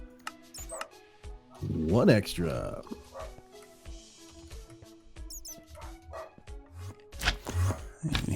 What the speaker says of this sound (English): You can hear my dog saying hi.